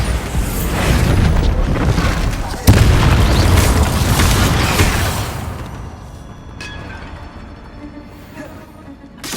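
A Bombarda spell explodes in the Hogwarts Legacy video game, a loud, close booming blast with a sharp crack that rolls into a rumbling debris tail and slowly fades over several seconds.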